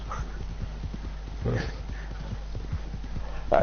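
Steady clip-clop of horse hooves at a trotting rhythm in Red Dead Redemption 2, with a brief snort and a voice speaking faintly underneath.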